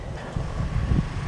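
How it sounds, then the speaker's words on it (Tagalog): Wind gusting outdoors on a mountainside after days of rain, a steady broad rush with low buffeting thumps against the microphone. "mahangin dito"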